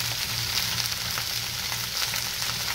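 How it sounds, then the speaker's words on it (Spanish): Chopped onion and garlic hitting a hot frying pan for a turkey stew, giving a continuous, close, loud sizzle that stays even throughout without any talking. "ahora lo que vamos a hacer es dejarle caer la cebolla y el ajo ya picado"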